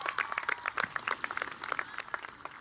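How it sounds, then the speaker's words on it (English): Scattered clapping from families at a school promotion ceremony, sparse individual hand claps in an uneven rhythm, fairly faint and distant rather than a full ovation. "Families, parents, communities, please give yourself a big round of applause"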